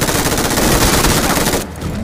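Sustained automatic gunfire in a shooter video game, fired while switching position in a battle royale match, loud and continuous for most of the moment before cutting off abruptly near the end.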